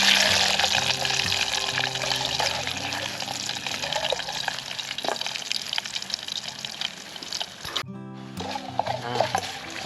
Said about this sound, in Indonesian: Masak goreng.